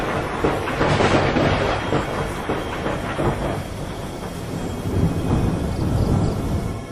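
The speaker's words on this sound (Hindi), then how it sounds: "तभी अचानक उस समुद्र में तेज तूफान उठने लगा और लहरें ऊपर नीचे करने लगी।" Cartoon sound effect of a violent storm at sea, with heavy rumbling thunder and a rushing, churning wash of wind and waves that surges and recedes continuously, loud and dense throughout.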